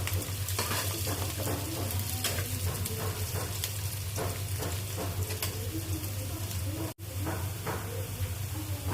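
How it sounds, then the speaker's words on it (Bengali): Onion and cumin seeds crackle in hot oil as a tempering for a katla fish curry, a continuous moderate sizzle with a low steady hum beneath and one brief dropout near the end. "আমি এখানে পেঁয়াজ আর একটু জিরা ফোড়ন দিয়ে"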